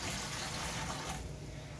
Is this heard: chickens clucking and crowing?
no